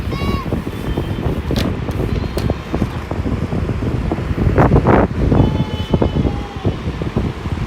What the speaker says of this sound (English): that's the fan right there that's making all that noise